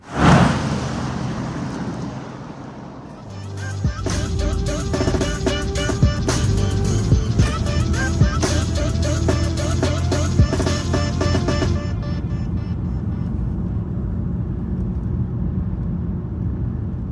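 A car driving on a road on a bright summer night in Eyjafjörður, a steady loud engine and road roar with a clattering rattle that stops partway through, heard from inside without talk.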